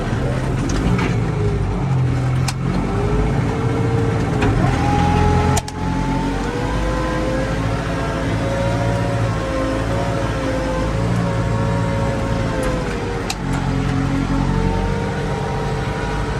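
A TD 95 tractor engine labors steadily pulling through mud, its pitch wavering up and down as it strains, with a few sharp knocks and clanks along the way.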